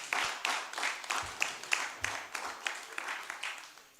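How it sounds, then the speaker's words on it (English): An audience at a 70th birthday celebration gives a light round of applause, the claps fairly sparse and distinct, moderately quiet and steady for a few seconds. "I think he deserves a round of applause"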